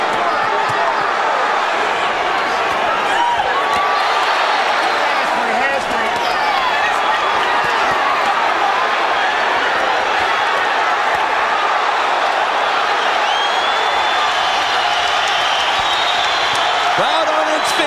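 A boxing arena crowd on its feet, roaring and cheering in a dense, sustained wash of noise, with a commentator's voice running underneath.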